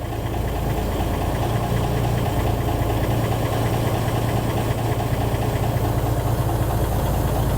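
A heavy diesel engine of a 5-ton truck idles steadily up close at about 500 RPM, a low rumbling throb with a rhythmic knock that holds constant throughout.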